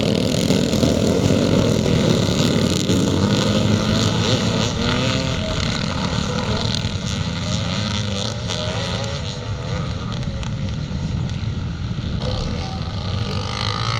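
Classic motocross dirt bikes pull away from the start line at the Cumberland Grand National, a loud, steady blended engine roar that stays close and continuous throughout with no talk over it.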